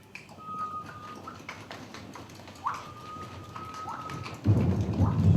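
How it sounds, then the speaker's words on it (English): A heavy storm pours steady rain while thunder rumbles, swelling into a loud, deep roll near the end; high tonal calls sound faintly over the downpour. "The rain gets stronger, and I realize It's a huge storm."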